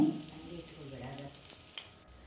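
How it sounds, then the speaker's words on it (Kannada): Mustard seeds and chopped dried chillies dropped into hot oil in a pan, a brief soft sizzle with faint crackles, close and low in level with a little background noise. "ಬಾಣಲೆ ಇಟ್ಟು ಅದಕ್ಕೆ ಎಣ್ಣೆ ಹಾಕಿ ಬಿಸಿಯಾದ ನಂತರ ಸಾಸಿವೆ ಹಾಕೊಳ್ ಹಾಕೊಳ್ತಿದ್ದೇನೆ"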